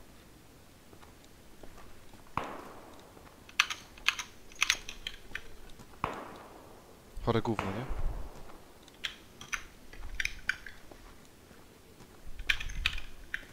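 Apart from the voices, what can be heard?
loud computer keyboard clicking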